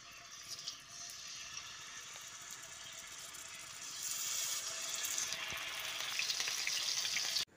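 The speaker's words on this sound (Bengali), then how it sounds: "তেলটা গরম হয়ে গেলে একে একে মাছগুলো দিয়ে দিচ্ছি।" Marinated fish frying in hot mustard oil in a wok for Bengali macher mouli, a steady close sizzle that grows louder and busier partway through as more pieces go in, with no talking.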